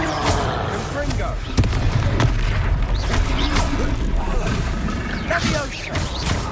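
Confringo blasting spells explode in Hogwarts Legacy, giving repeated booming impacts and crashes over a dense, continuous game soundscape with voices talking throughout.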